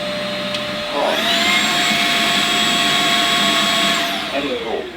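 Eufy E20 robotic vacuum cleaner running on maximum suction, a steady whirring motor whine with high tonal hum that rises sharply in pitch after a second, holds level and loud, then drops off near the end.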